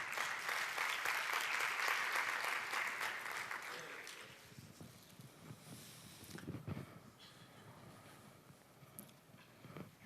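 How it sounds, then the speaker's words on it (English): A dense burst of audience applause at a disability-inclusion conference fills the first four seconds, then fades into quieter room noise with scattered shuffling and faint voices. "we're going to give Judy a big clap anyway"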